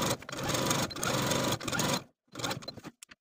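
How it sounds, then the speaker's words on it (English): Home sewing machine running basting stitches along a skirt edge for a wrap maxi dress, close and clear in several steady bursts of rapid needle chatter separated by short pauses, ending with faint clicks. "I'm going to sew basting stitches from one edge of the skirt at the dot all the way to the dot on the opposite side"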